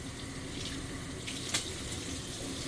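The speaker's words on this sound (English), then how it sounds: "I'm going to rinse my brush again so you can have it ready for the next shoe" A shoe-cleaning brush is rinsed under a running faucet, steady close splashing water with a brief louder splatter midway.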